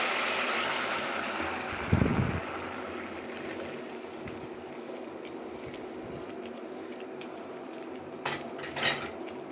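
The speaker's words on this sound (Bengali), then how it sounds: "অল্প মশলা দিয়ে বুট ভুনা করে নিচ্ছি।" Chickpeas fry with spices, ginger and onion in a pan over a soft sizzle, with a spoon clinking and scraping against the metal. Two louder knocks come, one early and one near the end.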